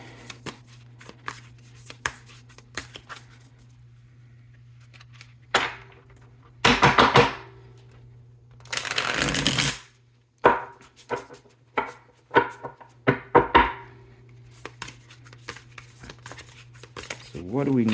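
A tarot card deck being shuffled, a few quick riffling bursts and crisp card slaps between stretches of quiet, close up, with a person talking intermittently.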